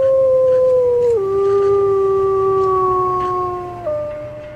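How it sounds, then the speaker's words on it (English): A single long, clear wolf howl, sustained and loud, dropping in pitch in a couple of steps before trailing off. "The most famous means of communication is the howl."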